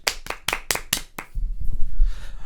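Six sharp, evenly spaced hand claps ring out close and crisp, then give way to a low muffled rumble of room noise.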